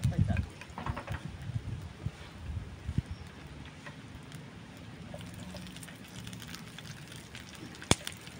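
Capsicum fries in a pan, giving a soft, steady crackle and sizzle with occasional sharper pops. People talk over it at moderate volume.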